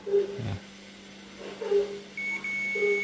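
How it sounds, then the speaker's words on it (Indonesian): A multimeter continuity buzzer sounds as its probes are shorted while testing the motor wires of a dead electric fan: a few short electronic beeps followed by a steady, thin high-pitched tone, close and clear. "Kalau kita short, nah dia akan nilainya 0 tapi ada buzzernya, ada bunyinya."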